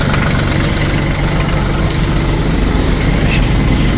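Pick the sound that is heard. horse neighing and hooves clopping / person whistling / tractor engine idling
tractor engine idling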